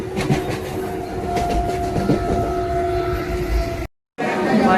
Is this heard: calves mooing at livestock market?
no